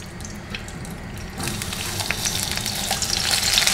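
Food frying in very hot desi ghee for a qeema breakfast: quiet at first, then a loud, steady crackling sizzle bursts in and keeps building, close and unbroken, with no voices.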